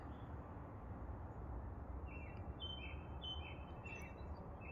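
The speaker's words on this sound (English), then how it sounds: "If you listen carefully, you might hear a bird." Faint, high bird chirps repeat over a steady outdoor backyard hiss in spring, a few short calls clustered toward the end, soft and somewhat distant.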